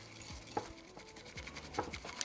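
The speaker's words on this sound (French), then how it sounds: "On va venir mettre de l'eau chaude" Hot water pours onto finely sifted matcha powder in a bowl, a steady close trickle with light clinks and scraping, no talk.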